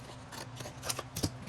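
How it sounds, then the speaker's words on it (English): Scissors snip through ribbon a few times close by, quick crisp cuts with short pauses between them, no voices. "Let me get my scissors."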